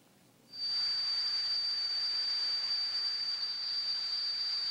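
After a half-second of near silence, a thin, piercing high-pitched tone switches on and holds steady over a soft hiss, imitating ringing in the ears.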